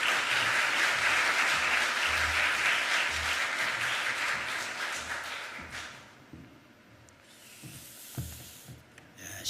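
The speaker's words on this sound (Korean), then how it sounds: "우리 박수로 환영하도록 하겠습니다." A church congregation at a pastor's ordination service applauds to welcome a guest pastor, a steady round of clapping that holds for several seconds, then thins out to a few scattered claps.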